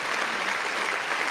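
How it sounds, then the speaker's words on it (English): Brief burst of audience applause welcoming a guest onto a talk show, dense and even clapping lasting just over a second. "Good applause."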